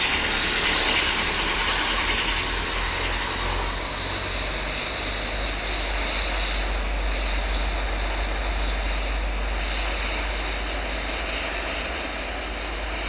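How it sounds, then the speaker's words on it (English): Aircraft engines in the Tower Simulator 3 video game at VRMM airport produce a steady, loud, continuous roar with a high whine, unchanging throughout, with no talk. "It's just 12 minutes of pure plane spotting here at VRMM."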